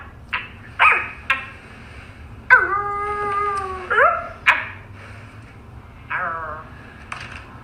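Two dogs trade drawn-out, wavering howls and yelps back and forth, clear and close in a quiet room, with short pauses between calls.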